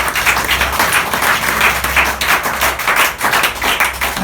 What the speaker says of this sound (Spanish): Ese aplauso sea para Dios